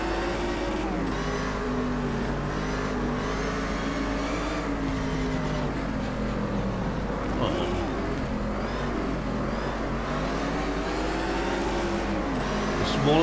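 A steady, buzzing 1600cc four-cylinder racing car engine in the video game GT Legends drones continuously, its pitch rising and falling with revving, with talk faintly underneath.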